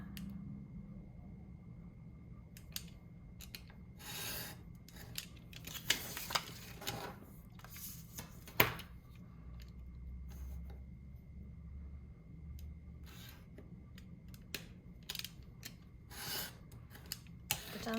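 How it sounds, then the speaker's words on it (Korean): Scissors cutting a paper pattern for leathercraft, with repeated close snips and crisp paper rustles spread irregularly over the stretch, alone without speech. "또 잘라줍니다."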